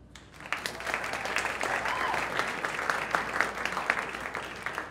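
An indoor audience at a startup event applauds, a dense sustained burst of clapping rising quickly and holding steady for several seconds, fairly close and with no speech over it.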